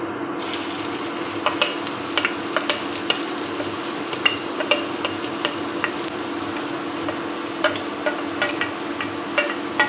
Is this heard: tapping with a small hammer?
no